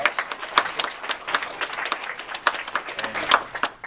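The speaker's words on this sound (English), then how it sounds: "so let's give them a round of applause." A small audience at a quiz game awards ceremony claps. The claps are scattered and distinct rather than a dense roar, each hand clap standing out at a moderate level.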